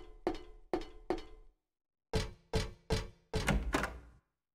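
A door in the video game Silent Hill 3 produces a series of hollow knocking thuds, three quick hits then a pause and five more, crisp and isolated against silence.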